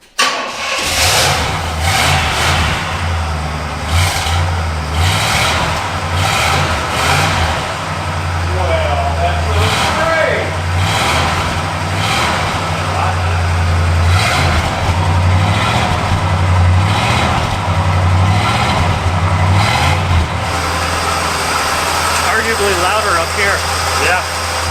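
A Pontiac Executive, an old luxury car, cranks and fires up, then settles into a steady low idle that continues throughout, with people talking loosely over the engine.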